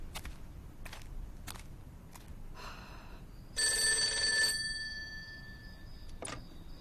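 Telephone ringing late at night, a single electronic ring burst amid soft clicks and faint room noise.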